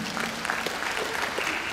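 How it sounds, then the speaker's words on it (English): Brief, close applause from an audience at a spiritual gathering, a steady burst of clapping with no speech over it. "give yourself a round of applause."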